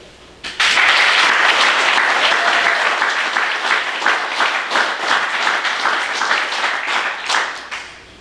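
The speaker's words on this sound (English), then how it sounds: "I hope everybody watching hears this nice round of applause." A full room breaks into a round of applause at a trucking company's safety awards banquet, starting abruptly and holding as a loud, dense wash of clapping before easing off near the end.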